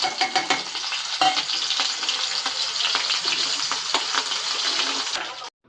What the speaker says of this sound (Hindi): कढ़ाई में डाल दिया है तेल और लहसुन और हरी मिर्च का तड़का लगाएंगे इसमें